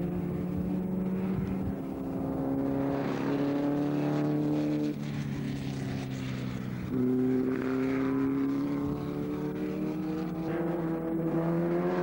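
Racing car lapping the Silverstone circuit in a club race, engine note rising and falling through gear changes as it accelerates, steady and fairly loud in the distance with no voices.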